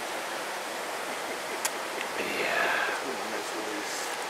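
Steady broadband rushing water from a nearby waterfall fills the short clip, with a brief splash or knock partway through.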